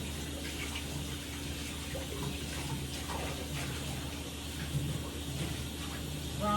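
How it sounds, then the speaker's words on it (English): Tap water runs steadily into a sink as hands are rinsed beneath the stream, a continuous moderate splashing hiss with a low hum underneath, heard alone without talk. "So let me rinse my hands off."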